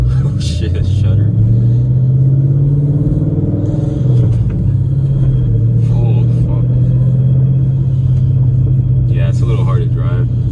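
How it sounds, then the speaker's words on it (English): A car with a stage 4 clutch launches in first gear, its engine giving a loud, low, juddering rumble as it pulls away, with a person talking intermittently over the noise. "One thing about this clutch is it's very, very hard to launch in first."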